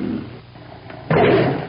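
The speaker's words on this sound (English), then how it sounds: "a tiger's roar can be heard up to 2 miles away" A tiger lets out a single loud, rough roar that bursts in partway through after a lower rumbling start, close and unaccompanied by any voice.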